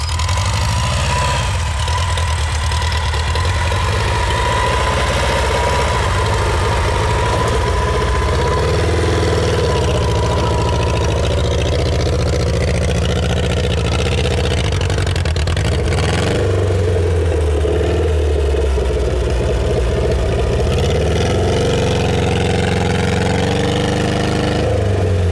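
A loud off-road vehicle engine runs steadily nearby in snow, rising and falling in pitch as it revs and strains, with no voices heard.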